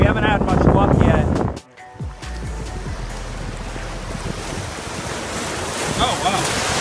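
Surf rolls onto a beach at Navarre, a steady wash of breaking waves mixed with gusty wind buffeting the microphone, while people talk nearby as they walk along the shore.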